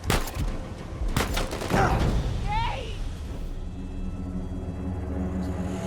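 Enemy gunfire in Uncharted 4 on Crushing difficulty: a burst of sharp shots in the opening seconds, then rumbling explosive booms and whooshes, with a low rumble continuing under a voice.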